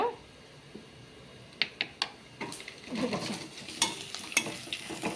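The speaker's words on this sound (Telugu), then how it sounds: "ఫ్రై అవుతుంది, కొంచెం అవ్వాలి ఫ్రై." Potato pieces fry in a pan as they are stirred, giving a soft sizzle with scattered clinks and scrapes of the spoon, fairly quiet and close, no talking.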